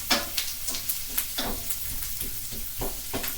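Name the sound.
stirring onions frying in a pan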